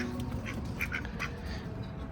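Several ducks quack in short, nasal bursts while eating, a handful of calls scattered over a low, busy background rumble.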